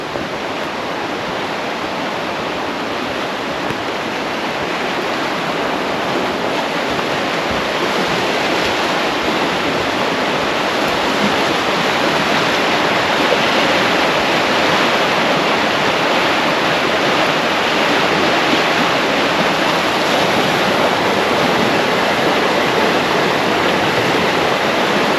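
Fast creek water rushing through trees in a northwest British Columbia forest, a loud, steady broadband roar of flow that holds unbroken for the whole stretch with no voices.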